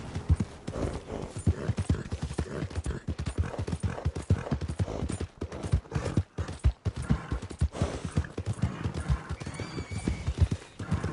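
A horse gallops at a steady pace through the open-world western Red Dead Redemption 2, its hoofbeats thudding in a fast, even rhythm close by for several seconds, with an occasional whinny and no talking.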